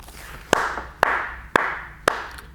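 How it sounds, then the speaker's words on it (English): Four sharp hand claps spaced about half a second apart in a quiet room, each crisp and close, with brief silence between them. "Okay, clap."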